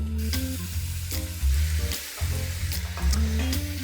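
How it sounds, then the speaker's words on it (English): Fresh pepper goes into a hot frying pan and gets a good stir, giving a close sizzle broken by rhythmic scraping and clattering strokes of the spoon, with no talk. "Fresh pepper goes in. Give a good stir."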